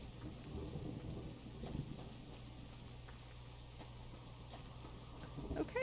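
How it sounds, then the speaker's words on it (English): Loud thunderstorm in the survival game Subsistence, with steady heavy rain and deep rolling thunder rumbling continuously throughout, no voices. "The storms are very loud."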